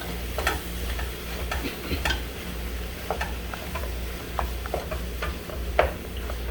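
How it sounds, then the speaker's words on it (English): Ground beef hamburger fries in a pan for chili with a steady close sizzle. Scattered sharp clicks and scrapes from stirring and chopping the meat break through at irregular moments, and no voices are present. "We're going to chop that hamburger up a little bit, let it cook in with all that goodness."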